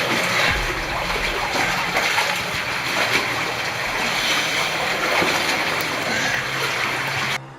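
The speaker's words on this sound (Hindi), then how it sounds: "हो सकता है ये आवाज़ें वहाँ की इन्वायरमेंट की और पानी की हो" Steady wash of water and low ambient rumble inside Mossdale Cave, a flooded limestone cave system, forming a continuous, fairly loud and hollow noise bed with no voices.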